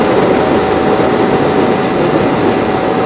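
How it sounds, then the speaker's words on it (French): A Yamaha CW50RS 50cc scooter with its stock silencer cruises at 50 km/h, making a loud, constant engine drone mixed with rushing wind noise, unbroken throughout. "là, je roule tranquillement. Je roule à 50."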